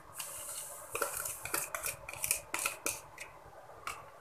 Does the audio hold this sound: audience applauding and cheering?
no